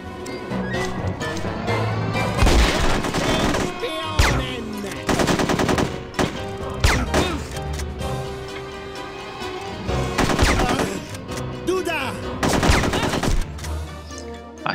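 Bursts of automatic gunfire and single shots ring out repeatedly in the video game No One Lives Forever 2, loud and close, with sustained rapid volleys broken by short pauses over constant game background sound.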